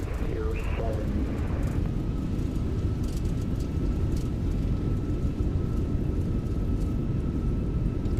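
Airliner touching down and rolling out on runway 07 in Microsoft Flight Simulator 2024, a steady, loud broadband engine and rumble roar throughout, with brief tonal cockpit sounds near the start and faint clicks above.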